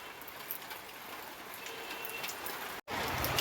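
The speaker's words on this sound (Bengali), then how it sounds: "আবার জোরে এলো, গুঁড়ো গুঁড়ো পড়তে পড়তে আবার জোরে চলে এলো বৃষ্টিটা।" Heavy rain pours steadily outdoors, a dense, even patter and hiss that carries on with no voices and a momentary break just before the end.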